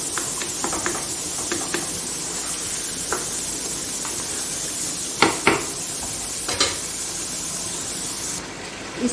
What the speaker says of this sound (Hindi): इसकी तब तक मैं बुनाई करूंगी जब तक ऑयल ऊपर ना आ जाए